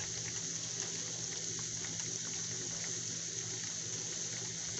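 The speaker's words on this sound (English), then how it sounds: "You want them to sizzle just like that." Steady, dense sizzling of wild morel mushrooms frying in a hot pan, a constant crackling hiss with no talking.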